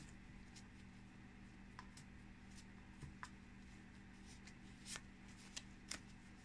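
A handmade oracle card deck being shuffled close up, soft riffling and sliding with several crisp flicks of cards, quiet and without talk.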